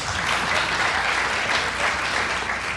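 Comedy club audience breaks into steady applause, a dense sustained clapping from a sizable crowd that holds for a few seconds without pause.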